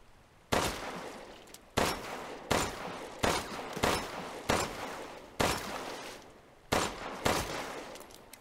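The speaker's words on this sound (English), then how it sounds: "Can I shoot him?" Seven sharp, loud gunshots in the video game Resident Evil Village, fired at irregular intervals about a second apart, each a hard crack followed by a short decaying tail.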